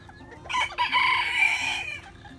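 Chickens on a farm cluck and squawk together in a loud, close burst that runs for about a second and a half, with no voices.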